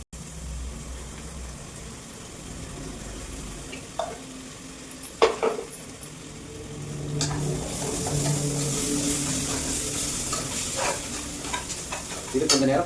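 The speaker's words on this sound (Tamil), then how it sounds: "இது கொஞ்சம் நேரம் பச்சை வாசனை போகிற வரைக்கும் வதக்கணும்" Coriander, mint, ginger and garlic paste sautéing in a pan for egg biryani, a continuous close sizzle that swells louder partway through, with occasional clinks of a stirring spoon and no talking.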